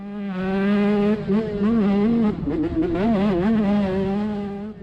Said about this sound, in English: He's got a power disadvantage on board that little Husqvarna TC85.